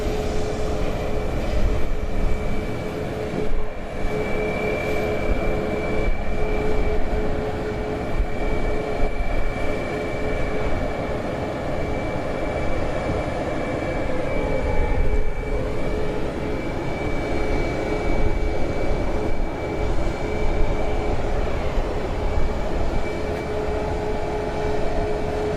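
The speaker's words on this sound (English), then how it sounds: "There's a Max 8 taxiing in front of us." Close, loud jet engine noise from a Boeing 737 Max 8 taxiing at Dallas Love Field at night, a continuous broadband roar carrying a steady high whine and a lower tone that stay level throughout.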